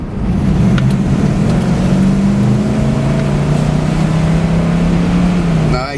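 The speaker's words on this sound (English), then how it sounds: "Nice induction sound from that." A 1973 Buick Riviera Boattail's big-block V8 with a Rochester Quadrajet carburetor drones loudly and steadily while driving, its intake roar holding a deep, even tone and rising slightly in pitch.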